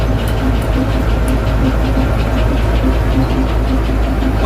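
A Massey Ferguson 550 combine harvester's engine drones steadily and loudly at low speed while it creeps through a soybean harvest, a constant knocking rumble with no break.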